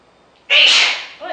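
A single sharp sneeze bursts out close and loud, followed by a faint breathy sound as it fades.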